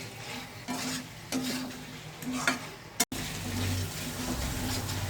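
Mutton frying with salt, turmeric and garam masala gives a continuous sizzle with intermittent stirring scrapes against the pot, broken by a brief sharp clatter midway, then a thicker, louder fry.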